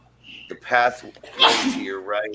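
A single sharp sneeze bursts out midway, with a person talking before and after it.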